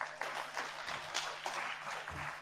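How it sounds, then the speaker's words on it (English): Applause for a student at a new-student orientation session, scattered clapping from a modest audience, fairly faint and steady for a couple of seconds with no speech over it. "Clap for her."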